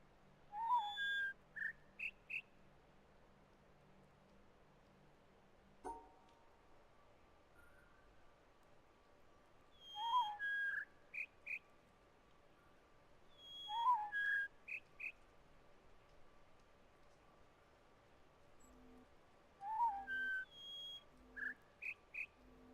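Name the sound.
high-pitched bird call in the video game The Witness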